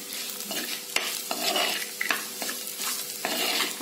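Masala being stirred in a pan for Kerala buttermilk curry made without coconut, a steady crackling sizzle broken by repeated scraping strokes of a spoon against the pan, close and alone.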